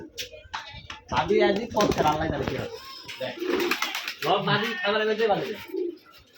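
Pigeons coo at a pigeon farm, with soft repeated calls heard close by under and between loud, continuous talking.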